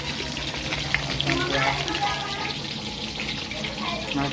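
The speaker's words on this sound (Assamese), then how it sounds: "মই পূৰা ঢেকেৰা মাছ ভাজি আছোঁ" Whole dhekera fish frying in a pan gives a steady crackling sizzle, close and continuous, with bits of talk and kitchen clatter around it.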